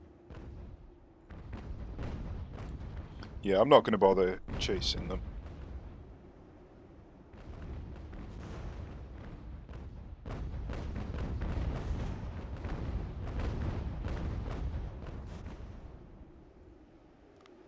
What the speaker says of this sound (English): I can't believe that cannon just wiped out 73 men.